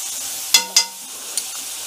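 Onion with salt fries in a pan, a steady close sizzle broken by two sharp spatula clinks and a lighter third tap; no one speaks.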